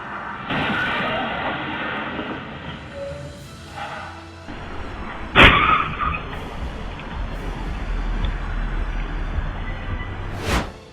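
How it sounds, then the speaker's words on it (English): A speeding car skids on a slippery road, then slams into another car in a sudden loud crash. Tire noise and road rumble come before the impact, and a second sharp bang follows near the end. "A car speeding at high speed lost control on the slippery road, veering wildly off its lane and crashing forcefully into another car traveling in the same direction."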